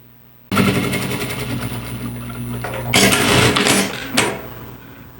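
A sewing machine stitches a seam along backpack lining fabric, its steady whirring motor running close and loud for several seconds, pausing briefly, then starting again in shorter bursts.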